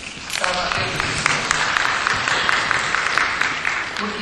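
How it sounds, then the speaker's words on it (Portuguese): An audience at a training session bursts into applause for a participant, giving a dense, steady patter of many clapping hands that stays loud throughout the short stretch. "Uma salva de palmas para ela"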